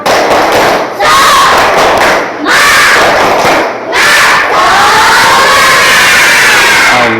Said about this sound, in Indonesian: mari kita mulai dengan hitungan 1, 2, 3. Tepuk semangat.